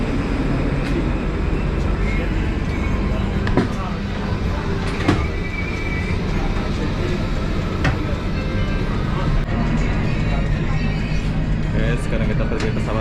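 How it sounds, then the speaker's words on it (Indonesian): Steady engine rumble and rattling inside an airport shuttle bus to the plane, with people talking over the continuous ride noise. "Wah, naik bus pula kita ini."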